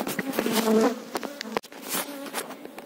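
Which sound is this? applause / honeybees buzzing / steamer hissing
honeybees buzzing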